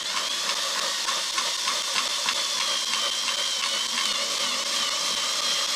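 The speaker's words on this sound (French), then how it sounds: "Et donc c'est une scie cloche." Hole saw cutting a hole through a wooden board, a continuous steady whirring grind with a high scraping edge, loud and close, no talk.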